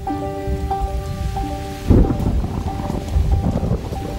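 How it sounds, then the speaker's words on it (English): Rain falls steadily with a hissing patter under sustained musical tones, with one louder burst midway through. "Ah, nice drop of rain."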